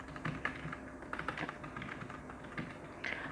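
Computer keyboard typed on in a quiet room, a light, steady patter of close key clicks running throughout with small bursts and brief pauses, no voices.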